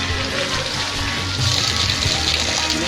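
Capuz Falls pours steadily, a dense, even rush of falling water with no pauses, close and fairly loud, filling the whole moment alone.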